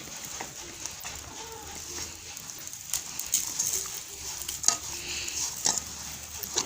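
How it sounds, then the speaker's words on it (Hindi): A chicken shami kabab mixture being kneaded and mixed by hand, soft wet squelches and scraping against a bowl, close and quiet, with faint birdsong cooing in the background. "इसको अब अच्छे से हम मिक्स करेंगे।"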